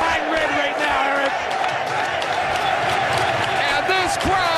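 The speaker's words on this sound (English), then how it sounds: "And this crowd is jacked." Arena crowd at a CZW pro wrestling show during a three-way match, a steady roar of cheering and shouting that keeps up the whole time, with commentary voices talking over it.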